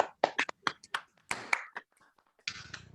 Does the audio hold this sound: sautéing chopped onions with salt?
no